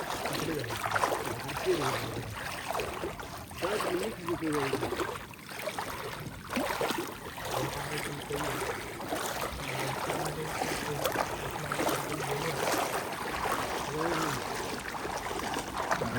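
Someone wades through knee-deep water at night while catching crabs on the Konkan coast near Devgad. Water swishes and sloshes continuously at close range, and a person talks intermittently over it.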